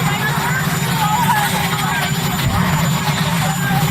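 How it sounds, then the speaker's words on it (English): A helicopter roars steadily in the background outdoors during a presidential press briefing, a loud continuous rotor and engine rumble running under overlapping voices. "you have a helicopter roaring in the background"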